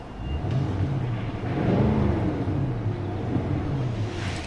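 Heard from outside, a Nissan Titan Pro4X pickup with a Z1 Offroad cold air intake revs its engine, producing a loud, nearby exhaust rumble that swells and eases a couple of times, with no voices.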